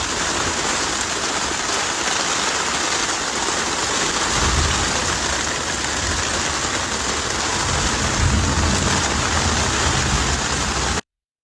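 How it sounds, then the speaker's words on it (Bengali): Heavy rain pours outside a boat sheltering in a canal during a storm, making a dense, steady roar of drops drumming on surfaces, loud and unbroken for the whole stretch. "প্রচুর বৃষ্টি হচ্ছে বাইরে।"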